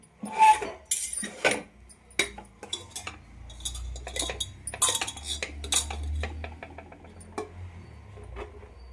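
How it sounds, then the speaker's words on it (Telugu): Curry and rice served onto plates with a metal spoon, producing many clear clinks and scrapes of utensil on plate and pot in an irregular, close sequence over a low background hum. "ప్లేట్లో కర్రీ వేసేసి రైస్ వడ్డించేస్తున్నాం."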